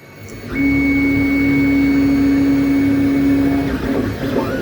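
A 3D printer fitted with a Method 4mm stainless steel nozzle runs at 2,500 mm per minute on saturated filament, giving a loud, steady motor whine with a sustained tone for several seconds before it shifts and drops slightly, no talking.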